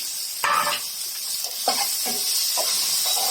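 Sliced onion and green chillies sizzle and crackle in hot spiced oil for aloo matar gobhi, with a steady frying hiss and brief louder bursts as the pan is stirred.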